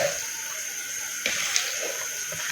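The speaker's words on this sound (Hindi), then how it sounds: "तो अभी हम इसमें चावल ऐड करते हैं।" Washed rice poured into a pot of water for vegetable pulao, a continuous watery rush and splash with a few small bright plops, close by and without talking.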